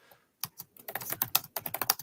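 Fast typing on a computer keyboard: a rapid, steady stream of close, crisp keystrokes, loud and alone with no voices, after a brief pause at the start.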